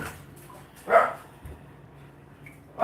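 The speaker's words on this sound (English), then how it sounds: "Stop barking." Indoors at home, dogs give a single short bark, then a faint second yip near the end. The barks sit over quiet room noise.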